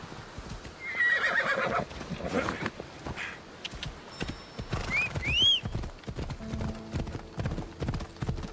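Horse in the Assassin's Creed Odyssey video game, with steady clip-clopping hooves throughout and a loud, close neigh and whinny midway, plus a brief higher whinny earlier, heard alone without talk.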